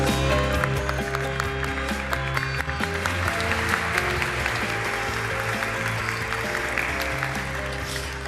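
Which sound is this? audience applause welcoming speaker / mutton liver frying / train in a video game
audience applause welcoming speaker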